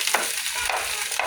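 Frozen homegrown tomatoes cook in a pot for tomato soup, giving a steady close sizzle and bubbling hiss with a few soft stirring scrapes, and no talking.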